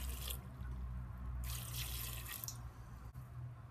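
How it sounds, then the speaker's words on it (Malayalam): Water splashes from a tap into a cooking pot for boiling cassava, with brief pouring bursts and a faint drip between them in a quiet kitchen. "അതിലേക്ക് ആവശ്യത്തിന് വെള്ളം ഒഴിക്കുക"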